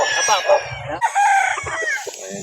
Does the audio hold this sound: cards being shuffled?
no